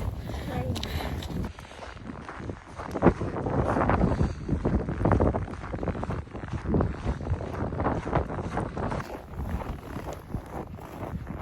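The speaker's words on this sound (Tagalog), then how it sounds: "Grabe, ang lakas ng hangin." Strong wind roars and buffets the microphone in continuous gusts during a snowstorm in Edmonton, Canada, loud and close, with faint muffled movement underneath.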